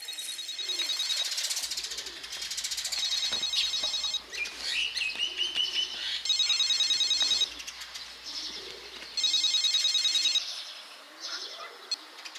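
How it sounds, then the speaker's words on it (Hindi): A telephone rings in repeated bursts of electronic trilling, with bright pulsed tones recurring at regular intervals, loud and close, alongside a faint bird-like chirping in a quiet room with no talk. "ये फोन कितना बज रहा है?"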